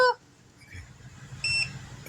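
A portable power station gives a short beep as it is switched on, a brief clean tone at the very start followed by quieter room noise and a second faint electronic tone.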